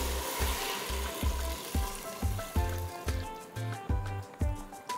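Water hits a hot, sizzling pot for duck soup with pickled mustard greens, a steady fry-like crackle broken by regular clinking of a utensil against the pot.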